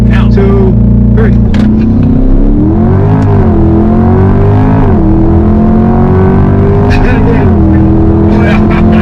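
A turbocharged car, alongside a 2021 Corvette C8 Z51 and a 2021 BMW M850i on a desert road, accelerates hard with a rising engine note and whirring turbo, loud and close, with voices talking over it.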